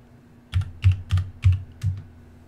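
Five distinct, evenly spaced keystrokes on a computer keyboard while typing a word in EverQuest, fairly close and clear over a steady low hum, with no talking.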